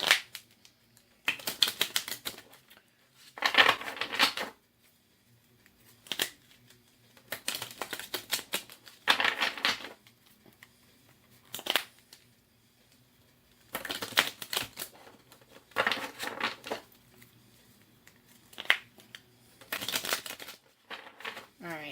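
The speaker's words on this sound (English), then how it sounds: "Let me shuffle a little more." Bursts of riffling card shuffles from a tarot reading come in repeated rapid flurries separated by pauses, with a quiet voice speaking in the gaps.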